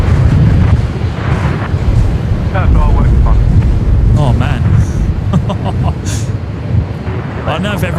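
Strong wind gusting across an open airport apron at Brisbane, steady and loud throughout, with rumbling low roar and people talking over it.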